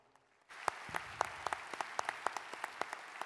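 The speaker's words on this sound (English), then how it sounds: "I also want to give a round of applause to the wonderful and amazing program" A concert audience at a university school of music breaks into applause for a Navy band performance, the clapping starting abruptly and continuing as a steady, fairly distant crowd wash with a few sharp individual claps standing out.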